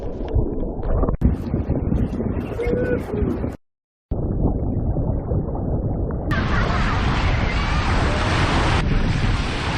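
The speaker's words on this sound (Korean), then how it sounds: "그런데 이날 파도가 높아서 바다 속은 모래만 보였어요." High surf rolls onto a beach in Bali, a loud continuous wash of breaking waves mixed with buffeting wind noise on the microphone, briefly cut out, then rising into a brighter roar.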